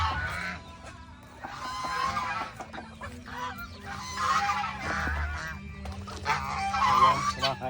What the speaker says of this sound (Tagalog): mga gansa at yung bibi natin